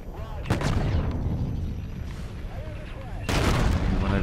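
Missile launches and explosions from a Call of Duty: Infinite Warfare campaign battle, with booming bursts at the start, a sustained rumble, and another heavy blast near the end under game noise.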